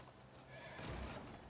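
A horse whinnies within the Warhammer 40k Rogue Trader video game, a faint neigh that rises and swells briefly over a low rumbling background, with no talking.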